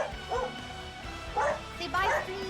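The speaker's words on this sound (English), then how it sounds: "I'm so sorry about my dogs," Dogs bark and whimper indoors in short yips and whines spread across a couple of seconds, moderately loud, mixed with a person's voice and background game audio.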